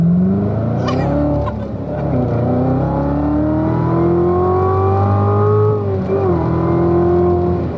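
A 650-horsepower car accelerating hard on a freeway, heard from inside as a loud engine note rising steadily in pitch through a long pull, with a brief dip between gears.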